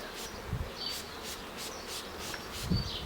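Agitated honeybees buzzing at a hive while being caught, a dense continuous hum with individual bees whining past close by, steady and fairly quiet with occasional low thumps.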